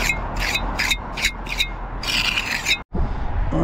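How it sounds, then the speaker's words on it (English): A small trowel scrapes and shapes wet mortar on an old chimney with new pots, a run of short rhythmic rasping strokes followed by a longer smoothing scrape, close and fairly loud with no talk. "So I've got a smaller trowel now, and I'll just start to"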